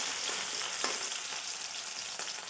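Tomatoes frying in a pan for a bean pod curry (val shenga bhaji), a steady close sizzle with faint stirring scrapes throughout, no voices.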